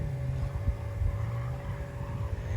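A Mazda RX-7 FC rotary engine runs roughly and breaks up slightly, a steady close low rumble with uneven flutter, with no talk over it.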